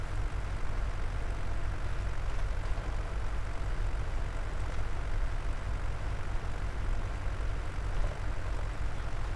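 A small tractor, a compact tool carrier in Farming Simulator 22, runs with a low, even engine rumble that holds steady without pauses or speech.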